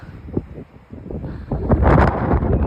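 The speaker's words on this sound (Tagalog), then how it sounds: "Grabe, lakas ng lakas ng hangin" Strong wind roars and buffets the microphone, building into heavy gusts toward the end with rumbling low noise.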